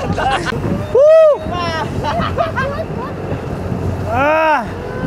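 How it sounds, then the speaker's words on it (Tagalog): Large, rough sea waves toss a small boat on the crossing to Kalanggaman Island, with wind buffeting the microphone and water surging. People shout and cry out over the noise. "Ang laki ng alon."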